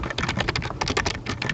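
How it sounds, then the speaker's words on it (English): Fast typing on a computer keyboard during a PC gaming session, with close, loud, clattering keystrokes in quick irregular bursts and a brief pause near the end. "you're going to hear my typing really loud"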